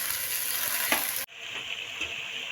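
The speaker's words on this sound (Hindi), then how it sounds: "अब हम इसी ऑयल में गाजरें फ्राई करेंगे।" Carrots fry in hot oil with a steady, bright sizzle that drops out abruptly midway, then resumes slightly quieter, with a few soft clinks along the way.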